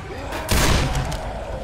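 Gunfire aimed at the Tank in the Left 4 Dead 2 video game, a short loud burst of shots and impacts rising midway through and trailing off, with voices in the background.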